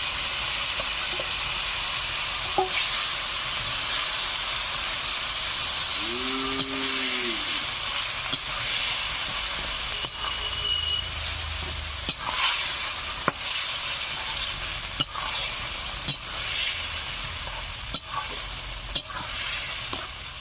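Mashed, boiled banana blossom and potato frying in a pan for a village-style banana blossom dish with rohu fish head: a steady close sizzle and hiss, broken by frequent light clinks and scrapes of stirring.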